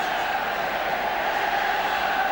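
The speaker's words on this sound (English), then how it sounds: "the crowd, as you can probably hear, trying to raise England now to look for that 3rd and maybe 4th goal" The stadium crowd at an England versus Switzerland football match roars and chants in support of England, a steady loud wall of voices heard from a distance.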